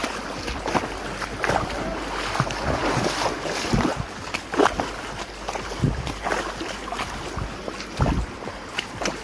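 Trail runners wading across a rain-swollen river on a trail run in south Bogor, with irregular splashing and sloshing steps, close and fairly loud over a rushing, windy outdoor background.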